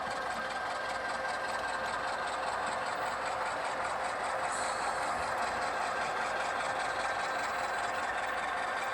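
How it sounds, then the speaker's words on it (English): HO-scale-style model Alco C-415 diesel locomotives fitted with ESU sound decoders rumble steadily with a busy mechanical chatter, continuous and fairly quiet, with no talking. "Boy, don't those engines sound great? Those are ESU decoders that he's installed in them."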